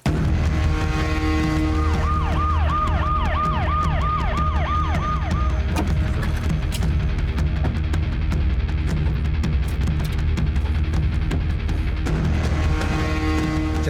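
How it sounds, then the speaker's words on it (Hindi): An ambulance siren wails in a TV crime drama scene, with a rising and falling tone that repeats for a few seconds. It sits over a loud, steady background of traffic and engine noise, and the wail then fades while the rumble continues. "राजदीप, कहीं ऐसा तो नहीं कि वो लोग उसी एम्बुलेंस से भागे?"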